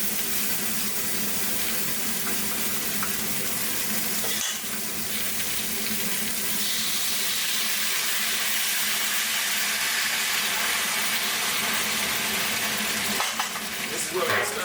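Hoisin pork belly and charred vegetables are stir-fried in a wok on a home-made high-output wok station, with a loud, steady, close sizzle and roar, plus occasional scrapes and clanks as the food is tossed.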